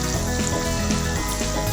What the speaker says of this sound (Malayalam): നമ്മുടെ ചെമ്മീൻ ഇതാ ഫ്രൈ ആയിട്ടുണ്ട്